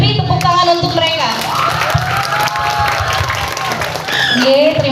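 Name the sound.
audience applause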